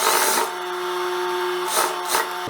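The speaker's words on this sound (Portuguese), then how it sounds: "giro a peça aqui na máquina e desço com a costura" A sewing machine runs a seam down a garment piece after turning at the corner, a steady mechanical whir broken by brief pauses as the fabric is repositioned. It is heard alone and close.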